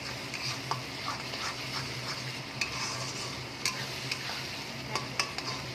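Masala for chicken kofta curry frying in a wok, stirred with a spatula: a steady close sizzle with sharp scraping clicks of the spatula against the metal at uneven intervals, no voices.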